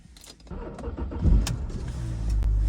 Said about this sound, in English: Sounds powerful when you start it up.